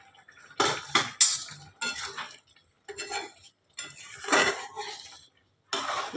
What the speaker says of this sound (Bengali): এই যে ঢাকাটা খুলে দিলাম।